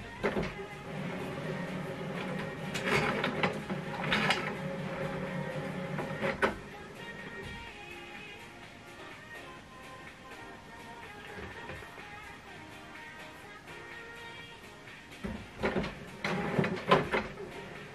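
An HP OfficeJet Pro 7720 inkjet printer whirs and clunks as it calibrates, with motor hums, carriage shuffles and clicks in bursts, quieter in the middle stretch.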